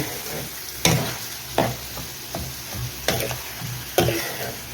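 Onions fry with salt in a pan for a fish dish with shatkora citrus, a steady close sizzle broken by five sharp spatula scrapes at an even pace, with no talking.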